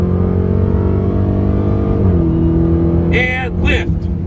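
A Ferrari 488 GTB pulls hard down a race track, its engine a loud, steady harmonic drone heard from inside the car that dips and climbs again partway through, with a voice briefly talking over it near the end.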